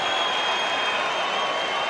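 Boxing crowd roaring after a point deduction, a dense sustained wash of shouting and applause from a large arena audience, steady and loud throughout.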